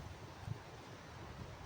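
Outdoor wind gusts buffeting a microphone and a tripod set up for archery practice, producing a low, faint, continuous rumble with a brief thump.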